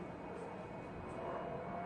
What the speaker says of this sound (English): During the barrel roll, the pilot pulls up for a loop and then roll the aircraft to change his direction